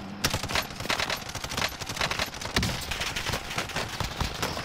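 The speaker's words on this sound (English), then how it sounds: "I don't know where I'm getting shot from." Rapid bursts of video game gunfire crackle continuously at close range, dense automatic shots overlapping with scattered single cracks throughout.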